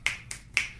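Three crisp finger snaps spaced evenly, close and clear, with a fourth starting at the very end.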